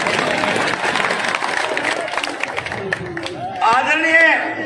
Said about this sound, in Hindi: ताली बजाओ भाई इस बात में